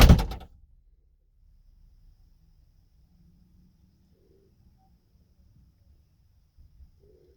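Door of a 1977 Chevrolet Corvette C3 slamming shut with one abrupt, solid thud at the start, then quiet room tone.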